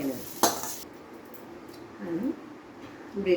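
Spiced potato filling is tipped out of a pan, with one sharp metallic clank followed by soft scraping and light utensil sounds.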